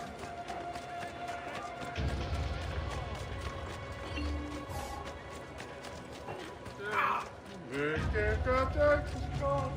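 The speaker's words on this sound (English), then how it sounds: "Need a horse. There's a horse." Rhythmic hoofbeats of a galloping horse in Assassin's Creed II, with music and effects layered over the clatter.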